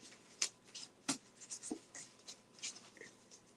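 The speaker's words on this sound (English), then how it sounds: "I shuffle until it feels right." Soft papery flicks and slaps of cards being shuffled, a quick irregular run of close, quiet bursts.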